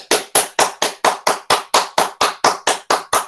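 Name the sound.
group clapping hands continuously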